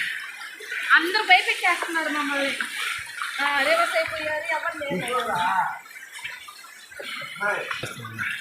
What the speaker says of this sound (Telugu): వాటర్ పడతా ఉన్నాయి